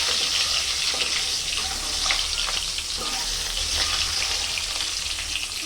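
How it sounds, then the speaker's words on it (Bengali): Egg fries in a pan in a home kitchen, giving a continuous close sizzle with occasional stirring and a running-water wash underneath. "এই যে এখন এখানে ডিম ভাজার পালা চলছে।"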